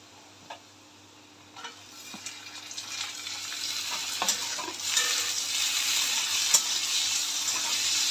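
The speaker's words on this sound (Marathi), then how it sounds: "टोमॅटो ही चांगला शिजेपर्यंत त्याला आपण परतून घेऊया।" Tomatoes and onion sautéing in a pan make a steady sizzle that swells gradually over several seconds, with a few sharp clicks of stirring scattered through it and no voices.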